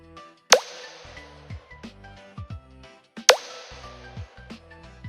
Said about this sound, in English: Let's add several drops of a dish soap.